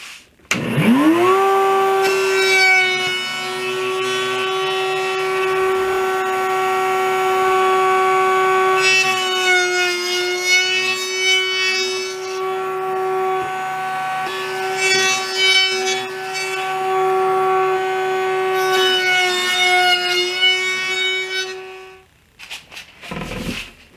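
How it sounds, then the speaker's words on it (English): A router fitted with a half-inch round-over bit shapes the edges of a wooden board for a backyard golf pong game. A high, loud, steady whine spins up and holds for about twenty seconds, with rougher bursts as the bit cuts, then winds down. "Now I'm using a 1/2 inch round over bit, and I'm going to do the back side and the front side."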